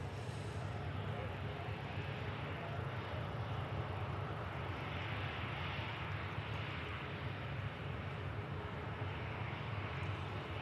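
A 13-year-old Norwegian Air Sweden airliner, tail in Otto Sverdrup livery, comes in from Copenhagen, its engines a steady, distant broadband roar lasting throughout, with talk over it.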